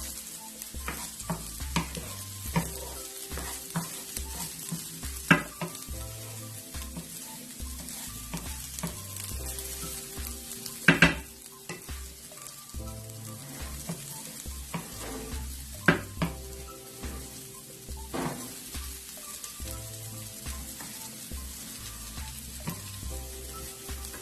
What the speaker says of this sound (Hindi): इसको तकरीबन 5 मिनट तक मैं भूनूंगी ताकि अच्छी तरीके से फ्राई हो जाएगा